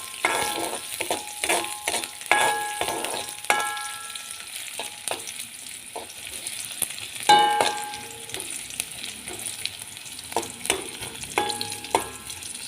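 Garlic and shallots frying in a pan, a continuous close sizzle broken by repeated scraping and stirring strokes and occasional utensil taps, fairly loud, no talking.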